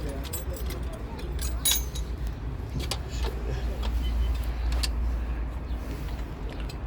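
Keys jangle and clink in a few bright bursts, close by, over a steady low rumble of a vehicle interior, with some talking.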